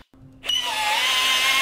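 A cordless brushless impact drill on speed 1 reverses a 16 mm auger bit out of pine. After a brief silence it spins up into a loud, steady, close-range motor whine.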